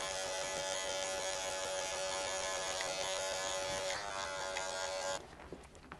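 Electric hair clippers with a 0 blade fade hair against the grain, a close, steady buzzing hum that runs continuously, changes pitch slightly as the blade meets hair, then cuts off near the end.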